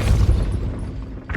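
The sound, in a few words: Depulso spell cast in Hogwarts Legacy video game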